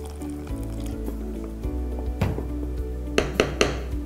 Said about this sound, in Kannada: ಇನ್ನೊಂದು ಸ್ವಲ್ಪ ನೀರು ಹಾಕಿ ಇದನ್ನು ಬಾಯ್ಲ್ ಮಾಡೋಕ್ಕೆ ಬಿಡೋಣ.